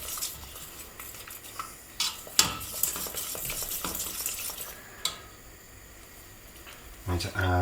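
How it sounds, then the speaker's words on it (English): A savoury pancake bake filling bubbles and sizzles in a pan as a utensil stirs it, with clinks and scrapes against the metal and a voice talking over it. "It's really bubbling now. Go in and stir."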